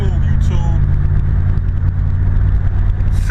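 Dodge Ram van on the road with a 46RE automatic transmission, its engine droning steadily and loudly while cruising through smooth gear changes, with a person talking over it.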